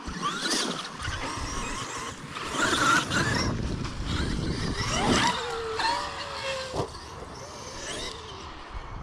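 A Traxxas X-Maxx RC monster truck with a Castle 1721 1260kv motor whines and revs loudly at close range while driving, with tires scrabbling over rough ground and the pitch shifting as it speeds and lands.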